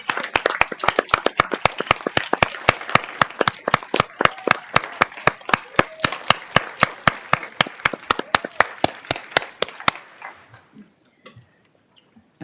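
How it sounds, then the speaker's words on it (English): Applause at a Harris County Commissioners Court meeting: a small group claps in a brisk, steady run of sharp, distinct claps for about ten seconds, then it tapers into scattered quiet taps and near silence. "Can we interim clap for Jesse too?"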